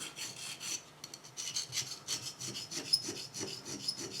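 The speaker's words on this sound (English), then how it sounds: "I'm just lightly filing away." Light hand filing of filler on a restored Dinky Austin toy car, a steady run of short, close raspy strokes at an uneven rhythm, with no voices.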